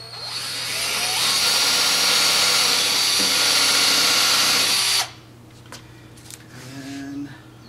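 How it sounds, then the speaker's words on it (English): A power drill bores holes in a board, a loud continuous whir lasting about five seconds before cutting off sharply, followed by quieter handling noises. "First thing we're going to do is drill a couple of holes."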